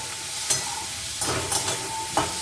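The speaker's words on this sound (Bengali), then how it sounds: "অন করে দিলাম, হালকা নুন দিয়ে সাঁতলে ভেজে তুলে রাখবো।" Ridge gourd fries lightly with salt in a pan, giving a steady close hiss and sizzle with a few soft scrapes of stirring, and no voices.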